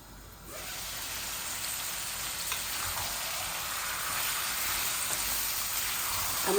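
Chicken curry sizzles loudly in a wok as it is fried and stirred, a dense, continuous hiss that begins abruptly and holds steady.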